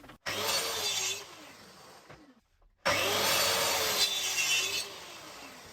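Square pieces of birch plywood being cut with a saw, two loud bursts of harsh rasping cutting separated by a brief quiet gap, close up.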